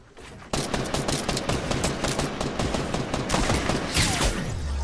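Rapid, dense gunfire in a battle royale video game crackles loudly and continuously, a fusillade of overlapping shots with no voices.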